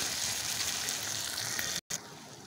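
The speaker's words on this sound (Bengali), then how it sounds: "এবার দিয়ে দিচ্ছি টমেটো" Tomatoes frying in a pan for a lentil curry, a steady dense close sizzle with one brief dropout near the end.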